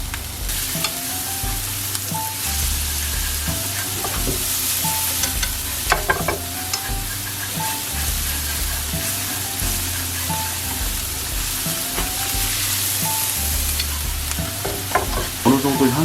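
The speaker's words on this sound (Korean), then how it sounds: "다진 마늘과 다진 파로 향을 먼저 내주겠습니다" Minced garlic and green onion fry in oil in a pan for japchae, a steady close sizzle with occasional stirring scrapes and clacks throughout.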